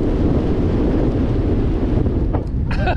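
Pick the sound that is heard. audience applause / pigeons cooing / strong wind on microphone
strong wind on microphone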